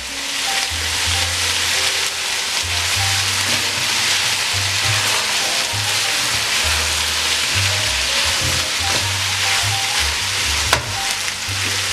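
Minced meat with potatoes and green peas sizzles steadily in a hot pan, with continuous frying hiss and repeated scraping stirs close up and no talking.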